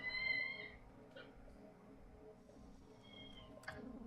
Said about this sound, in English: one of the kittens in this room is screaming because the mom is eating food and it's not sharing